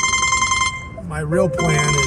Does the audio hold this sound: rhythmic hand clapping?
no